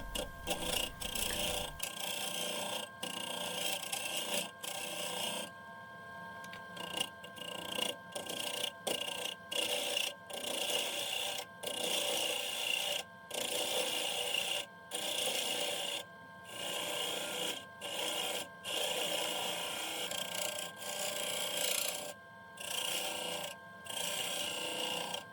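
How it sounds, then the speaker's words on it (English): A 1/4 inch spindle gouge taking very light cuts on a wood ring on a lathe mandrel, a continuous close scraping rasp broken by frequent short gaps as the tool lifts off. "I'm taking very light cuts here with a 1/4 inch spindle gouge"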